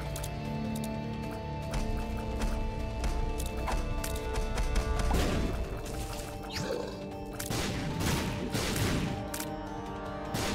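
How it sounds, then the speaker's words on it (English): Bombs bursting in The Binding of Isaac: Repentance, a dense run of crashing blasts and impacts stacked over steady game music, with several louder bursts clustered in the middle and toward the end. "I'm getting bombs thrown at me still."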